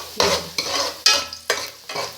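Onions softening in about two spoonfuls of hot oil for kadhi pakora, stirred in five steady scraping strokes over a continuous close sizzle, with no talking.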